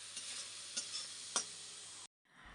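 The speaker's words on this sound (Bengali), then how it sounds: "তো এটা কিছুক্ষণ কষিয়ে নিই" A Bengali spice mix sautéing in a pan before fish and eggplant are added, a soft even sizzle with a few faint stirring taps, ending abruptly.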